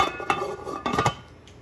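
A metal lid is set onto a pot of simmering chicken tinola with cabbage, giving a couple of sharp clinks and a short rattle close by, with no talking.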